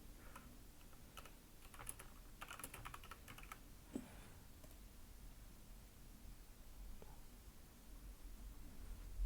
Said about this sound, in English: You might hear me typing away here.